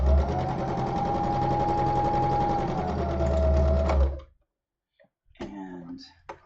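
A sewing machine stitches a seam in fabric with a steady, close motor whir that runs for about four seconds and then stops, followed by someone speaking.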